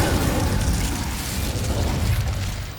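Incendio fire spell cast in Hogwarts Legacy: a loud, sustained roaring whoosh of flame with crackling texture, steady for a few seconds before easing slightly at the end.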